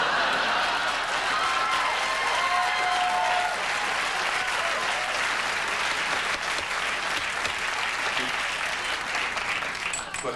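Dense, sustained studio audience applause on a late-night talk show, a thick continuous wash of clapping held loud and steady for about ten seconds before easing slightly near the end.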